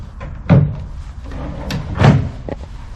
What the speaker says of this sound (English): Now if we open the drawer, the subsequent drawers should not open.